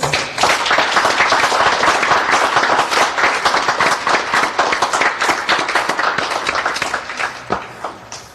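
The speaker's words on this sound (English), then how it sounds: "So let's give them all a round of applause." A crowd at a Black Mothers Day gathering gives sustained applause, loud and dense with many overlapping claps, thinning into scattered individual claps near the end.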